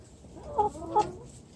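Chickens inside a coop with water drums and sparrow netting give two short clucks about a third of a second apart, fairly faint, over a low background hum.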